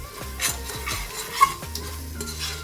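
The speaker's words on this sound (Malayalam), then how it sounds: "നല്ലോണം മിക്സ് ചെയ്ത് കൊടുക്കുക." A spoon stirs mutton masala seasoned with pepper powder in a pan, giving rhythmic close scraping strokes over a soft sizzle, with one sharp clink of metal midway.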